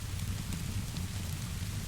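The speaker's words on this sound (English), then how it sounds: "Only the rain remained," Steady rain falls around a workshop, a continuous soothing patter with a low rumbling wash underneath, constant and fairly close throughout, with no voices.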